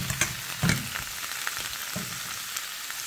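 Potatoes fry in a little vegetable oil in a pan, giving a steady broadband sizzle with a brief louder burst as they settle and a few soft clinks and stirring scrapes.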